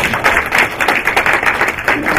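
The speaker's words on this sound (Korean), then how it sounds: "여러분도 박수 한번 주시죠" Audience applause fills an award ceremony hall, with dense, steady clapping from a large crowd sustained loudly throughout without pause.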